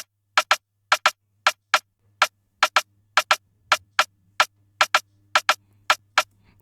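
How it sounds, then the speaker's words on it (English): A processed snare drum sample, compressed and EQ'd in FL Studio for an afrobeat, sounds as crisp, sharp hits in quick pairs. The pairs repeat at a steady rhythm, loud and dry against silence. "So from there I have my another snare sound."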